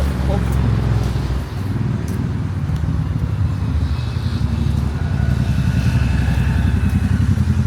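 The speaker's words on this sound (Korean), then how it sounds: "오토바이" A motorcycle engine rumbles loudly and continuously through busy Amsterdam street traffic, close by and steady, with the sound of voices mixed in.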